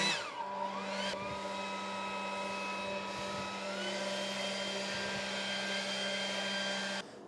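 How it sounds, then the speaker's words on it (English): An air blower gently clears excess sand from a crack in a concrete driveway, a steady whining hum with a constant drone that runs for several seconds, close and even, then stops. "Now to gently blow the excess sand out."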